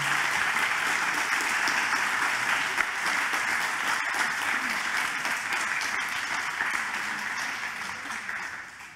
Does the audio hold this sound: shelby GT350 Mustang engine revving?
no